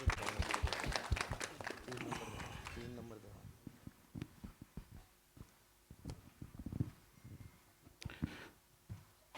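Audience applause at a Hindi film trailer launch event, loud at first and then fading into scattered claps and knocks amid hall noise.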